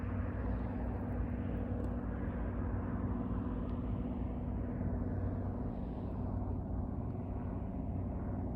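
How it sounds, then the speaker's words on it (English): A helicopter passes overhead as a steady, loud rotor-and-engine drone with dense low rumble, holding constant throughout with no talking. "Helicopter."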